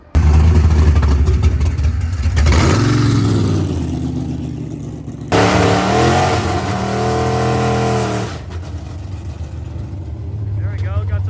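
A big-tire Chevrolet Nova race car accelerates with wheel spin, its loud, close engine roaring and revving through rising gear sweeps, briefly dropping before surging again.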